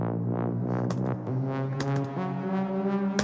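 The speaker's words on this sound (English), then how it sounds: "took that last note and turned that into a pitch riser" Within a house music track, a wavy synth pluck sounds in layered chords, then its last note is stretched into a pitch riser that climbs steadily through the mix over about three seconds, with no talking.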